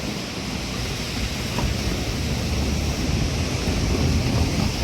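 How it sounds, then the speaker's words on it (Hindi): Strong, rushing water flooding past a damaged mountain road on the Manimahesh Yatra route, a loud, steady broadband roar with no pauses, heard up close and alone. "पानी का फ्लो काफ़ी बढ़ गया हो"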